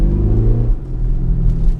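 Audi SQ5 diesel SUV engine revving close up, a deep, loud, steady rumble with a low growl that shifts in pitch partway through, heard alone without any talking.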